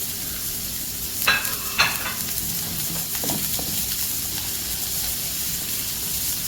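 Garlic fried rice frying in a pan gives a steady, soft sizzle and hiss, broken by a few sharp scraping stirs of the spatula early on, then settling into an even background crackle.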